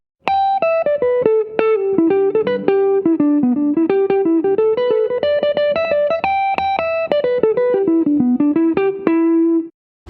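An electric guitar plays a basic pentatonic scale up and down in a steady stream of clear, distinct single notes. The notes rise and fall in pitch over about ten seconds, loud and close, with no voice.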